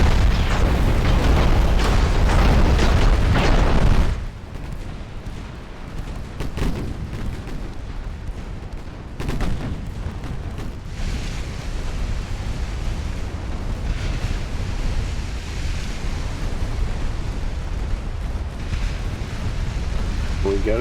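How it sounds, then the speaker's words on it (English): A torpedo hit explodes against a warship in Ultimate Admiral Dreadnoughts during an Austrian naval campaign: a loud roaring blast for about four seconds, then a lower rumbling aftermath with people talking over it. "We get a torpedo hit?"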